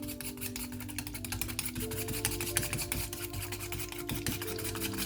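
Coconut milk batter for cassava cake, the milk partly solid from the cold, is stirred steadily in a bowl, giving a continuous close rubbing and rasping scrape with no talk.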